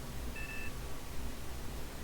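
A single short electronic beep, a faked pressure alarm in the space game Ostranauts, sounds once over a low, quiet background hum, with no voices.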